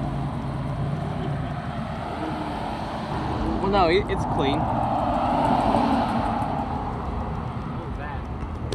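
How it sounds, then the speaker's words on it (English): A Ford F-150 Platinum Edition pickup truck at a drag strip, its engine a low, steady rumble that swells in the middle, heard under nearby people chatting. "Just a Ford F-150 Platinum Edition."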